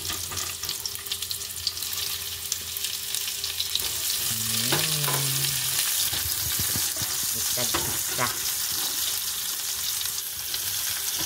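Food sautés, sizzling and frying in a hot pan for spaghetti, with scraping stirs and clinks, a short spoken word cutting in midway.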